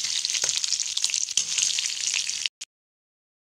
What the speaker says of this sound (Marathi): कांदा त्याच्यामध्ये टाकला, चांगला फ्राय होते।